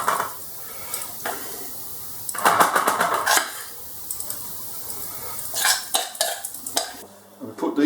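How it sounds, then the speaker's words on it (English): Sprout bhaji mixture spooned onto a baking tray in a home kitchen: irregular bursts of close scraping and clinking between quiet gaps, with no voices. "So you can take these out, put them in little balls on the baking tray"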